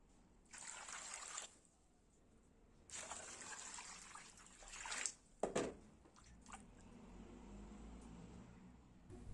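Water splashes and sloshes in intermittent bursts as madimak greens are washed, with trickling and a few sharper splashes between quieter stretches.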